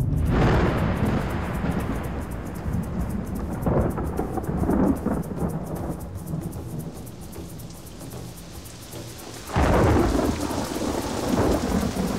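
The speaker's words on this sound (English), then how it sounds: "Thank you for the good rain." Thunderstorm with heavy rain in rural Cameroon: steady loud downpour throughout, with deep rolling thunder swelling near the start and again in a strong crack-like surge near the end.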